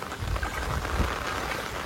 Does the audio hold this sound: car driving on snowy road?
no